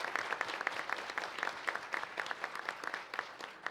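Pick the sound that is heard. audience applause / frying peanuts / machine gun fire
audience applause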